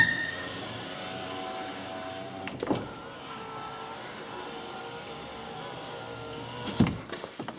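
A normal power window on a 2004 Ford F150 hums smoothly and steadily as it travels, with a soft thunk near the start and another as it stops, quiet and close with no talk.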